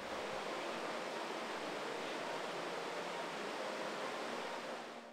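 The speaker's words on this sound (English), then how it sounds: "you can still hear the water flowing and it sounds nice" Water spilling over falls at a removed dam at Finesville, a steady, dense rushing roar that holds evenly from start to finish with no voices.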